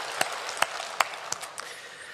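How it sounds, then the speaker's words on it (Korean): A church congregation applauds during a Sunday worship service, a steady wash of many hands clapping with a few sharper claps standing out, with no one speaking. "우리를 구원하신 하나님께 영광의 박수 올려드리시겠습니다."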